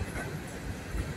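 Steady broadband rumble of two northbound trains rolling past, with low rail noise and a continuous roar throughout.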